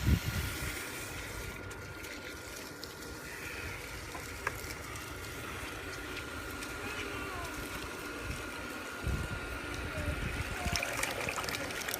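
Clay slurry poured and strained through cloth, a steady trickling, gurgling flow of water with occasional splashes, some talk and bumps around it.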